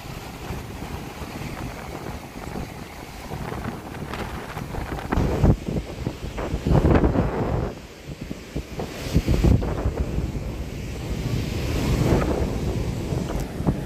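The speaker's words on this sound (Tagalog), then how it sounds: "Yan na naman ang wave." Ocean waves washing onto Boracay beach at Station 2, a steady surging roar with wind buffeting the microphone, swells rising and falling, no talk.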